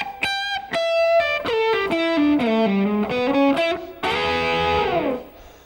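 Overdriven electric guitar plays a blues shuffle lick, a quick run of picked notes stepping downward and then a bent, sustained phrase that fades out, loud and close with no talking.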